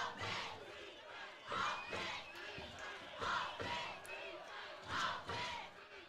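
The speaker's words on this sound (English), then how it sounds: "both crowds are getting real loud now" Playoff football crowds at a high school game roar in rhythmic surging chants, several loud swells repeating every second or two, with a commentator talking over them.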